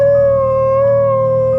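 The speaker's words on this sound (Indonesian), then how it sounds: "Selain itu terdengar juga lolongan anjing." A dog's long, steady howl holds one sustained pitch throughout, loud and close, with no other sounds.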